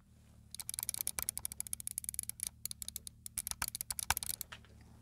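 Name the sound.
Logitech G903 computer mouse button clicks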